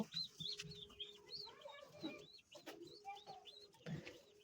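Fancy pigeons kept for sale coo and call softly in their loft, overlapping repeated coos and chirps with a steady low hum underneath and a couple of louder bursts.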